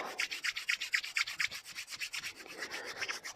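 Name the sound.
rubbing hands together to warm them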